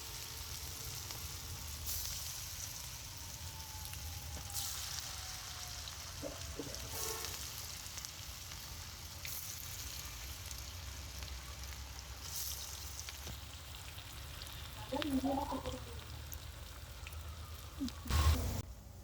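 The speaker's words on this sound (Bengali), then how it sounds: "আমি এখন এই পাতাকপি পেঁয়াজু ভাজবো" Cabbage and onion pakoras with coriander frying in hot oil over low heat give a soft, steady sizzle throughout, with a few brief clinks and stirring noises near the end.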